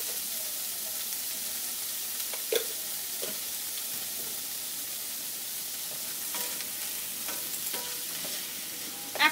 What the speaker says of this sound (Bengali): এখন এগুলোকে 3-4 মিনিট একটু ফ্রাই করব